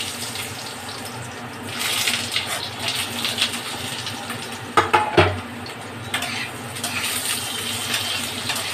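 Cut potatoes dropped into a cooking pan, a few distinct clattering splashes and thumps against the metal over a steady sizzle, close and fairly loud.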